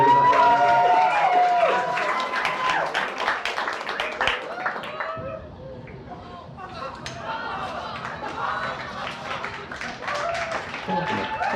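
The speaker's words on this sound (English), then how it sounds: "Hey, stop clapping." Comedy club crowd applauding a comedian, with scattered clapping spread across the room under a woman's close, continuous talking, dipping briefly midway before picking up again.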